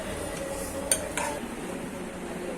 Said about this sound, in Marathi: आता याला आपण एका पाटीमध्ये काढून घेऊया